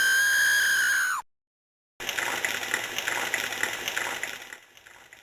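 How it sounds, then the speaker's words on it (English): Apple IIGS version of the King's Quest I video game: the witch's death scream is a shrill, sustained synthesized shriek that slides downward and cuts off after about a second, followed by silence and then a busy, noisy game soundscape. "we even get to hear her death scream in the Apple II GS version."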